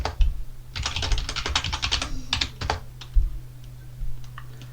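Typing on a computer keyboard while entering Linux commands: a close, quick burst of key clicks in irregular runs, then scattered single taps and pauses.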